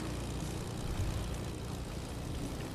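A propeller airplane engine in the video game Fortnite gives a steady, loud, broadband drone that holds unchanged throughout with no other sounds.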